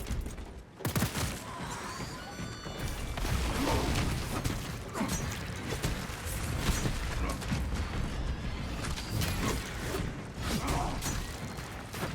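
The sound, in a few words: weapon reloading, magazine change in video game Space Marine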